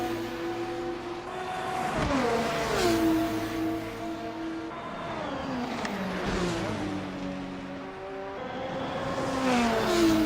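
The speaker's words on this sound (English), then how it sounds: "Dan Evans, on the other hand, is just itching to get himself past that lap car" Race cars lapping Phillip Island in a racing video game, engines droning continuously and loudly with repeated pitch sweeps as they shift gears and brake for corners, several cars overlapping throughout.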